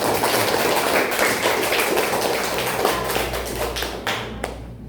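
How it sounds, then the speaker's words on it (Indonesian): Students clap for their group leader in a classroom, a crisp, dense patter of many hands at close range that thins out and fades over about five seconds. "Tepuk tangan untuk ketua kelompok."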